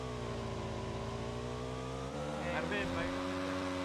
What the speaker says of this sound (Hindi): मैं बाइक लेके आ रहा हूँ।